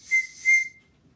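Two loud, high steam whistle toots in quick succession, the second trailing off into quiet.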